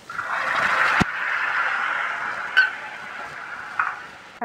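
Chicken 65 pieces coated in yogurt sauce fry in a pan, a steady sizzle running throughout with a sharp clatter near the start and a few brief utensil scrapes later; no one speaks.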